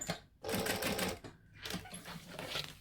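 A sewing machine stitches fabric in short close bursts of rapid whirring, pausing briefly twice between runs as the work is guided along.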